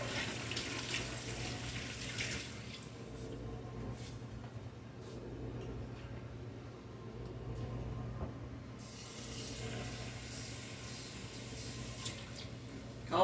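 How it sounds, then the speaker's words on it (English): Hands are washed under a running kitchen tap: a continuous rush of water that shifts in tone as the hands move through the stream and the splashing changes. "let me wash my hands."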